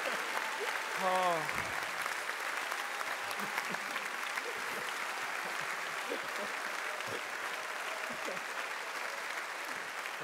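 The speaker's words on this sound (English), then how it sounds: "Round of applause for Paolo for his amazing voice work." A hall audience at a convention panel celebrating The Witcher's anniversary applauds steadily for a voice actor, a dense sustained clatter of many hands with a brief exclamation over it.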